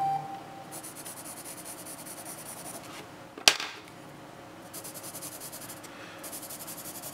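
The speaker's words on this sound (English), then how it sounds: "They sound different because they actually write on the paper slightly different." Pencils scratching across paper in a quiet room, a steady soft rasping rub in short writing strokes, with one sharp click or tap partway through and pauses between bursts.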